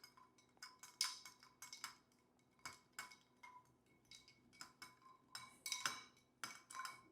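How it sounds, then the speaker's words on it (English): A Rusty Nail cocktail stirred over ice gives close, repeated light clinks and taps of a bar spoon against ice and glass in an uneven rhythm, with no talking. "So just go ahead and stir it down to temperature."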